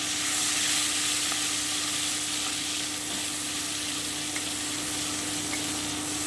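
Tomato paste lightly frying in a pan over lowered heat, part of cooking kotti fish with sesame paste; a steady, continuous close sizzle with no talking.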